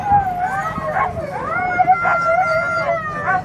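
Many sled dogs bark, yip and howl together at kennels before a dog sled race, a loud, overlapping chorus of rising and falling howls with sharp barks throughout.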